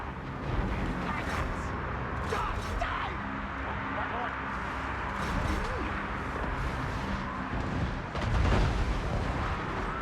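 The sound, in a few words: Skaven mortars firing and exploding in Total War: Warhammer video game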